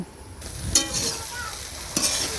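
Taro stolons (kochur loti) frying in a pan, an even sizzle broken by two short bursts of stirring or scraping, close and clear.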